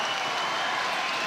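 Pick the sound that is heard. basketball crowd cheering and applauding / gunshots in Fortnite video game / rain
basketball crowd cheering and applauding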